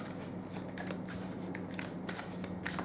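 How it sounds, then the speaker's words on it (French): A deck of angel oracle cards is shuffled by hand, giving soft repeated riffling and flicking of card stock, steady and close, with no speech. "On va maintenant prendre les cartes, pardon, des anges, les oracles de Dorine Virtue"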